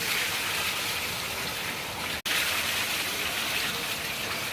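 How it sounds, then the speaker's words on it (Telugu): Heavy rainwater pouring down a flight of steps, a constant rushing, splashing wash that stays level throughout, with one momentary dropout midway. "మెట్ల మీద నుండి వాటర్ అన్ని ఫుల్ వర్షం."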